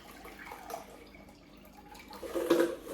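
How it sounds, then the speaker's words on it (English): Water pours off a spun mixture at home, a quiet trickle and splash that swells louder toward the end, with no voices. "So you can pour off your water."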